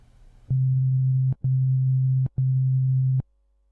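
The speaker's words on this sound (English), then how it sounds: "The sine wave is the most simple type of waveform with no harmonics," Low pure sine tone from a Sylenth1 synthesizer oscillator, with no harmonics, sounding as three steady sustained notes separated by short gaps, each starting and stopping with a faint click, loud and clean with nothing else behind it.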